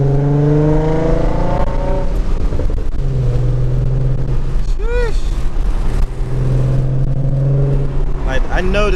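A Ford Mustang with a V6 engine heard from the cabin while driving, a loud steady drone with rising revs and two quick throttle blips that rise and fall, continuous and close throughout.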